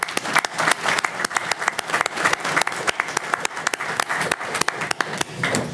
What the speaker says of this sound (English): Can I interrupt for an applause?